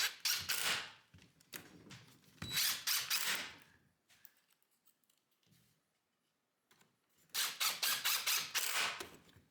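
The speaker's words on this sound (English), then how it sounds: "I clamp the top parts, then screw them from under." Screws being driven from underneath to join 2x4 lumber pieces, several loud close bursts of a power driver separated by quiet pauses and a few soft handling knocks.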